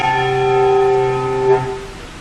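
A bass handbell is struck once and rings with a sustained, bell-like tone. The ringer then damps it against the stomach, and the tone dies away with a slightly muffled, unclean cutoff.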